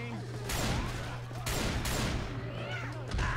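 Dense gunfire rattles in the video game Left 4 Dead 2: loud, rapid bursts of shots in several clusters over a steady low hum, with muffled chatter underneath.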